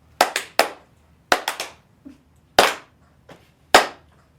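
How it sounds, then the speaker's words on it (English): A deliberate slow clap on a live show: sharp, close hand claps in irregular clusters, some doubled or tripled, separated by short silences, each crack ringing briefly before fading. "Crew Slow Clap."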